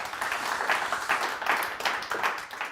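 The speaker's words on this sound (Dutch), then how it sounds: "Mag ik nog 1 groot applaus voor het betere teamuitje." Applause for a team outing at an office award event, a dense steady round of many hands clapping close by, lasting the whole stretch with no voices over it.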